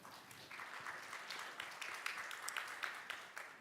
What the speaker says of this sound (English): A round of applause for Linda.